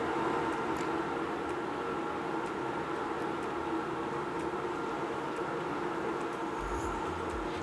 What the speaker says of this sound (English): Our water is boiling, it's almost ready. If you can hear, I hear it.